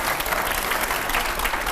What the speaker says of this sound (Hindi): वाकई में इसके लिए एक बार फिर से तालियां बनती है